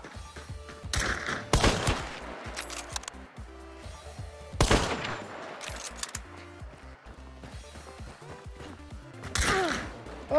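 Gunfire in the video game Hunt: Showdown, a few sharp loud shots spaced across the scene over low game ambience, with gasps and voices reacting between them.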